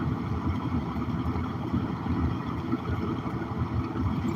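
An engine holding steady at about 1500 RPM while slowly gaining speed, giving a low, even drone with a faint rumble and no talking.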